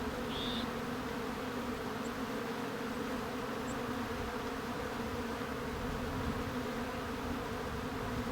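Honeybees buzz steadily around two hives on a farm fed with pollen substitute, a dense continuous droning hum of many insects at close range, unbroken for the whole stretch with no voices.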